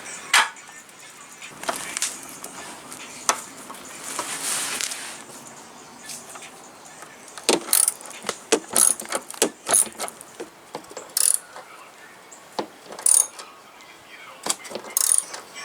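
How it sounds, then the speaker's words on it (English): A rivet nut install tool spun by a driver on a wobble head extension while fitting a skid plate to a VW Jetta, heard as bursts of clicking and ratcheting, sharp repeated clacks in the second half, with faint talk. "Install tool with 2 rivet nuts being installed by your driver with the wobble head extension"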